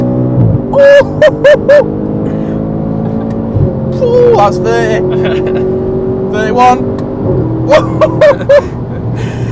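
A loud Audi RS5 V8 with its muffler deleted idles with a deep rumble, then revs sharply in several bursts, with people talking over it.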